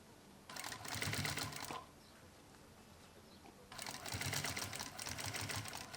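A sewing machine runs in two bursts of stitching, sewing a small safety seam at the corner of a rounded pocket. Each run is steady, rapid and close, with a quiet pause between them.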